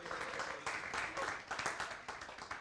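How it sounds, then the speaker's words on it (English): Applause from a church audience, a quiet but full patter of many hands clapping at a distance, swelling and easing over a couple of seconds, with faint voices mixed in. "Give Jordan a round of applause for doing all the graphics."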